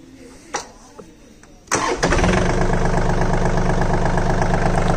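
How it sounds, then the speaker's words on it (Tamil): A John Deere 3036 EN V2 four-wheel-drive mini tractor engine cranks briefly and fires, then settles into a loud, steady running idle close by, with a few faint knocks before the start. "இந்த இன்ஜினை வந்து ஸ்டார்ட் பண்ணுறேங்க. சவுண்டு எப்படி இருக்குதுன்னு பாருங்கள்."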